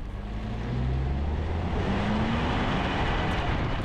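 A 2025 Audi Q8 with its turbocharged V6 pulls away steadily, a continuous low engine drone that swells and holds for several seconds, with rising tones heard from close by and no talk.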